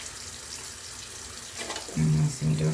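Hands are scrubbed under a running tap in a skills-lab sink, with a steady wash of water throughout and louder splashing toward the end.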